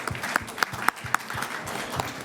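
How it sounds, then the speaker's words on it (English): A lively round of audience applause for a conference panel at the close of a session, with dense clapping that peaks in a few sharp bursts and then holds steady. "A good round of applause for"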